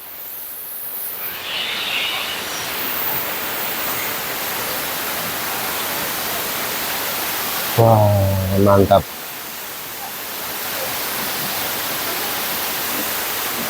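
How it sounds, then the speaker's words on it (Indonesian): The Watu Ondo waterfall in Cangar, Batu, pours and splashes in a loud, steady broadband rush that fills the whole scene, with a brief exclamation from a voice near the middle. "gemercik airnya itu luar biasa sekali"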